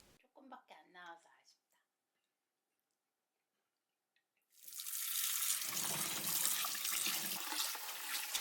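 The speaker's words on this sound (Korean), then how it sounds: "설거지를 하며 다음 메뉴를 준비한다." Water runs steadily from a kitchen tap into a sink while dishes are washed. A voice speaks briefly at the start, followed by a silent gap before the running water begins and continues to the end.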